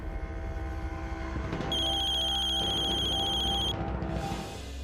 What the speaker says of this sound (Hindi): पूनम को फोन